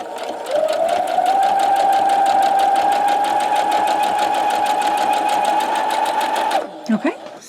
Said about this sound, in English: You're going to sew on the other seam.